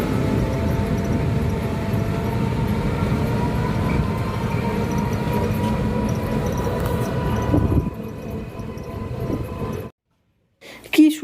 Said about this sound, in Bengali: সুন্দর দেখলে তোমরা ট্রেন যাচ্ছে